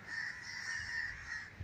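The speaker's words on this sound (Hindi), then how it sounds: "देखो कितने कौए जमा कर दिए इसने सामने" Crows cawing together at a ghat on the Yamuna riverbank, gathered by a boy who calls them, a steady chorus of harsh caws, fairly near and loud with no talk.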